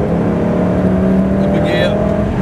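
A Lamborghini Gallardo engine pulls under throttle as a loud, steady cabin drone with a rising tone, while a voice talks over it.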